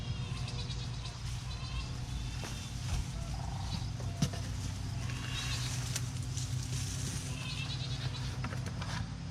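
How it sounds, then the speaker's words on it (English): Miniature goats bleat now and then against a constant low background hum, the calls fairly faint and somewhat distant. "I don't know if you can hear our goats in the background"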